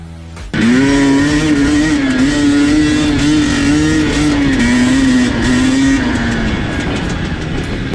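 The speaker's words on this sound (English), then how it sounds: "First gear right here is just like a crawling gear. It just easily crawls up just about anything." A KTM 250 two-stroke dirt bike idles then pulls steadily in first gear, its engine note loud and close, holding a wavering buzzy drone that rises and dips slightly as it crawls over terrain.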